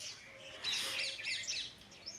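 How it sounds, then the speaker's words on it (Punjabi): Parrots chirping as they peck at scattered grain by a village home in the morning: a flurry of high, quick tweets and calls, moderately close, over a soft outdoor background with no talking. "ਆਪਣੇ ਘਰੇ ਛੱਜਰੇ ਆ ਕੇ ਤੋਤੇ ਇਹ ਦਾਣੇ ਚੁਗਣਾ ਹੁੰਦੇ ਸਵੇਰੇ ਸਵੇਰੇ"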